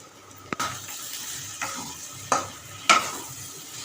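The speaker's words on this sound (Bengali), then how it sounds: "একটু নেড়ে দেবে একটু কষিয়ে নিলাম" A curry being sautéed and stirred in a pan, soft background sizzle with a few distinct spoon taps and scrapes against the metal, close and fairly quiet, no talking.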